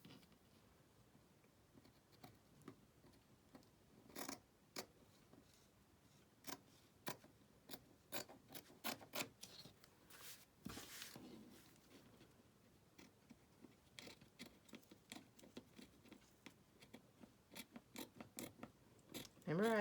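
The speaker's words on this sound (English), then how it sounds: "I need to get some decent scissors for in here." Scissors snipping through fabric, a series of crisp close cuts in an irregular rhythm with quiet pauses between them, in an otherwise still room.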